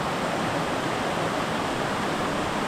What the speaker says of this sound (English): Now that is a waterfall.